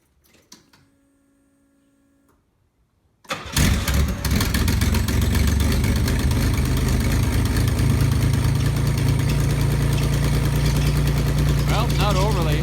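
A 1987 Pontiac Fiero with a resonator fitted in place of the catalytic converter starts up after a near-quiet lead-in, then idles loudly and steadily with a rough, lifter-ticking drone.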